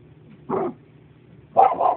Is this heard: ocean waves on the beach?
no